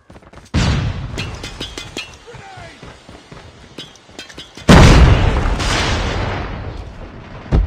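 A flashbang grenade goes off in the Call of Duty Mobile game with a sudden loud boom and a long ringing, hissing decay. An earlier thump and metallic clinks of gunfire come before it, with game voice lines mixed in.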